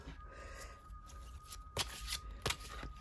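Tarot cards are shuffled and drawn, producing soft riffling and a few crisp flicks and slaps of cards close by, quiet and without talk.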